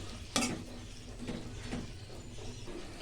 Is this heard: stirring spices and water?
yes